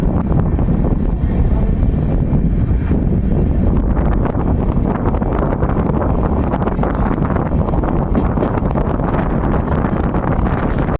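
The Amrit Bharat Express pulls out of Rampurhat Junction station, a loud continuous rumble and rattle of rolling wagons mixed with wind buffeting, sustained throughout.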